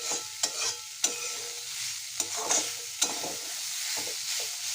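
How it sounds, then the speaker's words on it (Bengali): Small cut pieces fry in a pan with a loud, continuous hiss of sizzling oil, punctuated by a few sharp knocks and scrapes of a spatula against the metal. "আমি এগুলা ছোটো ছোটো করে কেটে এগুলা ফ্রাই বানাচ্ছি"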